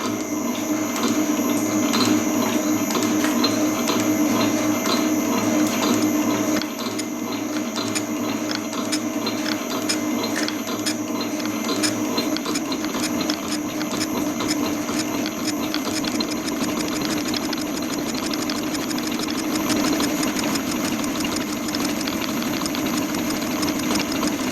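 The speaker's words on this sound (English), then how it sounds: "so we'll do this in the shaper" A metal shaper machines the surface of a zamak casting, a steady mechanical drone with a repetitive stroking rhythm and humming motor tones, loud and continuous, with no voices.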